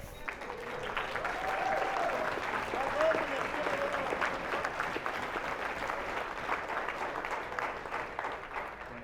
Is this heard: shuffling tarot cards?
no